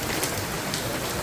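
Rain falling in the mountain town of Aguas Calientes, Peru, a dense, even patter of drops close by with no voices.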